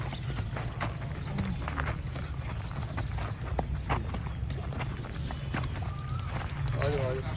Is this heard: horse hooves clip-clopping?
yes